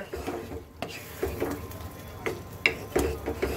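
A utensil stirs and scrapes through a soybean curry, cooked like meat, after ground garam masala paste goes in. Soft, irregular clinks and scrapes sound against the pot.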